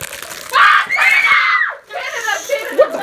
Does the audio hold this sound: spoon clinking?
no